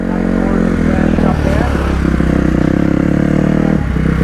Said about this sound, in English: we freaking made it to the dirt bike track. Our practice is going on the track right now.